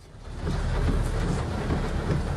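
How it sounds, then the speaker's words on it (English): Heavy evening rain in Makkah drumming down in a dense, continuous wash with a deep low rumble of thunder underneath, steady and loud throughout. "showing heavy rains in Makkah al-Mukarramah on the evening of Monday, August 21st, 2023"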